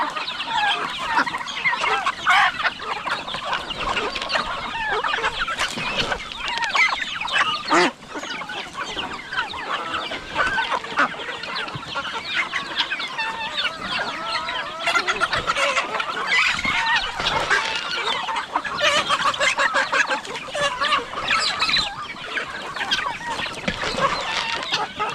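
Caged chickens cluck steadily and densely throughout, a continuous close flock chorus of hens with overlapping calls and no talk.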